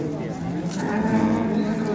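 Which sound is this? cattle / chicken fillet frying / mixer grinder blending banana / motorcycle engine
cattle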